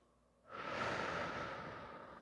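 A single long, deep exhale during a vinyasa yoga flow, close to the mic, rising quickly to a breathy rush and slowly fading, with no talking.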